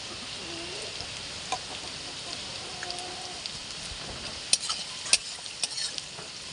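Onions frying in a pan for chilli paneer, a soft, steady sizzle with a few sharp scrapes and clicks toward the end, fairly quiet and close, no voices.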